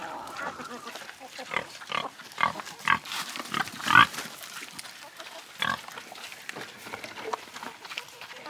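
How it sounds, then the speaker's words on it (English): A pig being coaxed to go in grunts and snorts repeatedly, with close, shuffling footsteps and scuffs as it moves around, and a person speaking and laughing nearby. "There's Daddy Pig. Not wanting to go in."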